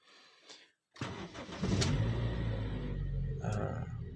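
A fuel-injected car engine cranks and catches after a short silence, then settles into a steady idle, close and loud, with no talking.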